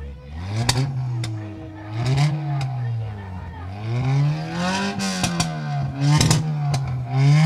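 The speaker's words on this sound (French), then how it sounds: "fais-nous rougir un petit peu le moteur. On va entendre, on va écouter ça" A car engine revs repeatedly, its throaty exhaust note rising and falling in waves, loud and close, with a few clanks in between.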